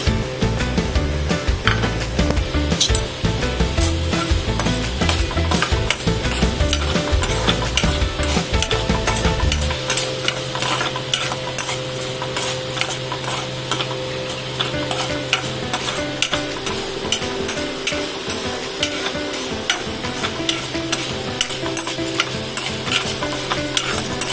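Urad dal frying in hot oil while a spoon stirs it, a loud continuous sizzle with repeated scraping strokes against the pan, changing tone midway as the frying settles, with no talk.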